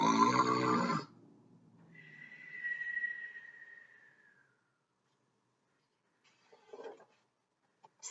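A voice imitates snoring during a children's storybook reading, a drawn-out nasal rasp and wheeze after a brief spoken phrase, then quiet with faint small sounds.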